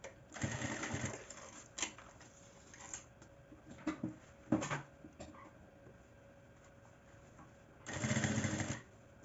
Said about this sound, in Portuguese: vamos começar aqui com a costura de pesponto